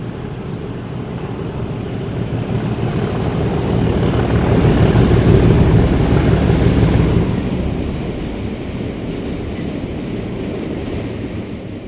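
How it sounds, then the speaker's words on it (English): A pair of British Rail Class 37 diesel locomotives pass the manned gate box at Charlton Lane, a loud continuous rumbling roar that swells to a peak midway and then eases slightly as they move on. "a pair of 37s past the manned gate box at Charlton Lane"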